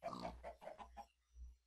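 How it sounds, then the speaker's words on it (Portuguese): A pig in Minecraft giving a short series of low grunting oinks, four or five close together, then one more after a brief pause, clear and fairly quiet. "Porco."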